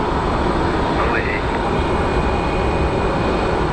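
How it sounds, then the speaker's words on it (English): An American Airlines jet bound for Indianapolis rolls for takeoff at Phoenix Sky Harbor airport, a broad, steady engine roar heard from a distance while a voice talks over it. "the American Airlines to Indianapolis is on a roll"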